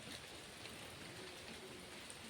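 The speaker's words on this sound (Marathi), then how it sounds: "पाऊस पडतोय बघा किती." Steady, dense patter of heavy rain falling, a continuous wash of noise with no voices.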